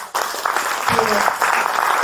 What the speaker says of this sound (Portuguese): À equipa do Intervalo, a quem eu peço mais uma salva de palmas